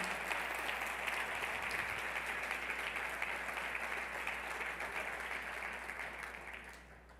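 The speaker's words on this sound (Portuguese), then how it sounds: "Aplauda Jesus." A church congregation applauds in a dense, continuous wash of clapping, faint and somewhat distant, tapering off near the end.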